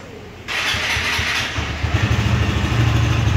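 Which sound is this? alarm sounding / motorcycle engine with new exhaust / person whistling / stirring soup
motorcycle engine with new exhaust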